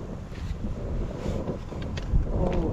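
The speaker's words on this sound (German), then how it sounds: "Oh, jetzt fährt der Wind wieder rein." Low, rumbling wind buffets the microphone steadily outdoors during a cookout, with heavier gusts of blustery noise throughout.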